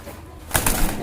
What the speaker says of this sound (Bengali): দেখছেন কবুতরগুলো ঝরঝরা দেখছেন ভয় পাইতেছে